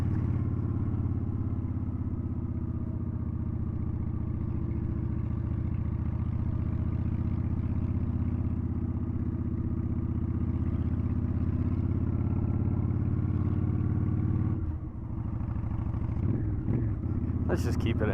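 A Honda Shadow motorcycle rumbles steadily in low gear along Route 89A near Jerome, Arizona, a continuous close engine drone that briefly dips and clatters near the end.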